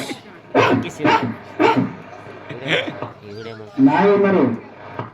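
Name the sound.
person imitating a dog barking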